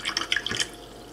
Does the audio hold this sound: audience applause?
no